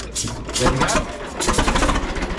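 A 1928 Caterpillar Sixty tractor engine runs steadily at close range, its rough, chugging rhythm continuing throughout while someone speaks over it briefly.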